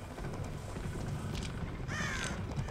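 Crow cawing in the Dead by Daylight video game, a single harsh caw near the end over a steady, noisy game ambience, with no talk.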